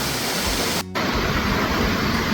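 Pistyll Rhaeadr waterfall in mid Wales rushes as a loud, steady, broadband roar close by, broken only by a brief dropout near the middle.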